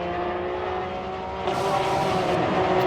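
A race car on a road circuit roars past at high revs, its engine note climbing and growing louder midway with a harsh, buzzing tone as it powers out of a corner.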